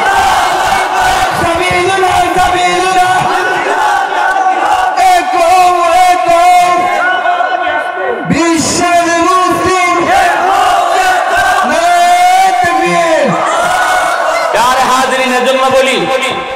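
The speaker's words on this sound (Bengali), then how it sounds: "জিহাদি স্লোগান উঠাবে।" A large crowd at a Bangla waz sermon gathering chants slogans in loud unison, voices swelling and repeating in rhythmic waves throughout.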